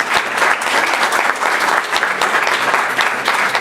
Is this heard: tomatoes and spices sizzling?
no